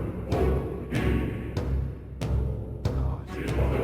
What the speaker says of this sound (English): Incredibly, like some of the darkest, like most deranged music in a game